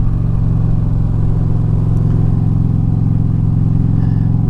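An Indian Chieftain Dark Horse motorcycle engine runs loud and close under added throttle, holding a steady throbbing drone with a slight rise in pitch. No talk.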